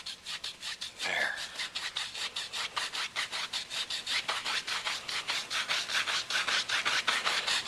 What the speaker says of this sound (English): we're making little crisscross strokes, little X strokes.